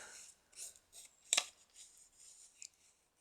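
Paper being cut with scissors while making a journal cluster from basic supplies, heard as a few soft, brief snips and rustles spread across a quiet moment, with one sharper crisp cut near the middle.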